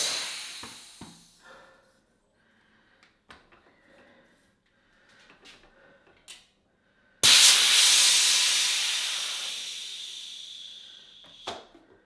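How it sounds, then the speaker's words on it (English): A homemade tubeless tyre inflator charged to 100 psi dumps its compressed air into a bicycle tyre in one loud sudden hiss that slowly fades, after a few quiet clicks and handling noises. "I'm going to let go of this and it should pump the tyre up"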